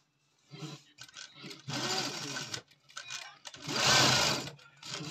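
A sewing machine stitches a coat in short bursts of rapid mechanical whirring, starting and stopping several times at close range, with someone talking in between.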